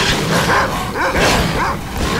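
A pack of mutant dogs from S.T.A.L.K.E.R. Call of Pripyat barks and yelps loudly and close by, in overlapping bursts that run through the whole moment with no pause.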